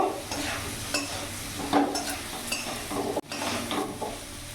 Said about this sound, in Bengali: একটু কাশ্মীরি লঙ্কা গুঁড়ো দিয়ে দিলাম। ভালো করে নাড়াচাড়া করে নেব।